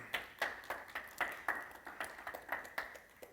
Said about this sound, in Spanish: Podemos dar un aplauso a la gloria del Señor en esta noche.